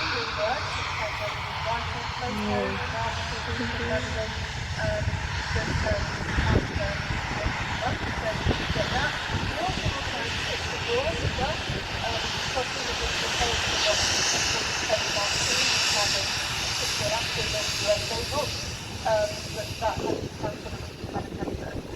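Steady aircraft engine roar with broad hiss on a rainy runway at Manchester Airport, fairly loud and continuous throughout, with someone speaking over it as the engine cowls close.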